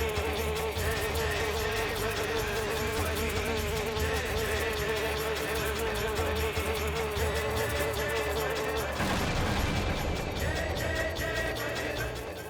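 A swarm of honeybees hums in a dense, continuous buzz for the whole stretch, layered with sustained tones and steady in loudness.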